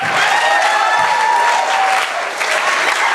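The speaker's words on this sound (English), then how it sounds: "Everybody clap" A crowd claps together in a steady, loud burst during a lively audience Q&A session, dense applause filling the whole stretch without pause.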